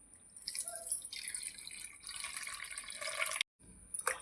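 Karpuravalli leaves being rinsed under running water for a herbal rasam, with a steady close trickle and splashing from a tap into a basin, a brief pause near the end, then water resuming.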